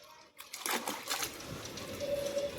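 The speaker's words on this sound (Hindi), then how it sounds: "घर पे आते ही देखो हल्की हल्की बारिश हो रही है।" Light rain falls softly in a village at home, a gentle, steady patter and trickle of drops that stays faint and continuous after a brief quiet start.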